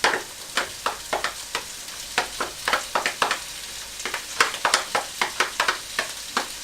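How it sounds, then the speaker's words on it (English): Minced pork fries in a pan, with a run of sharp, rhythmic scraping and sizzling bursts as it is stirred, fairly close with no voices. "Now you put your minced pork first."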